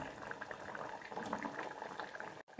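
A tomato and onion curry thickens in a clay pot, giving a soft continuous bubbling and popping simmer, close and fairly quiet, with a brief drop-out near the end.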